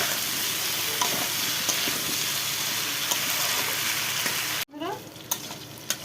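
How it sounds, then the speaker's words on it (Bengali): Raw green banana and potato pieces, dusted with turmeric, sizzle loudly and steadily in hot oil in a kadai. The frying cuts off abruptly near the end, leaving a few scattered clicks and taps. "এইভাবে আমি কাঁচকলা আলুটা ভেজে নিই।"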